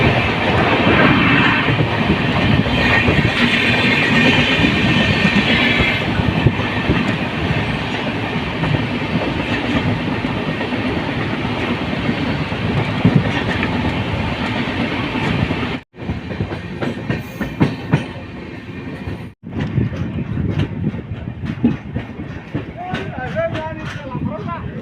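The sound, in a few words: Brahmaputra Mail train passing under railway overbridge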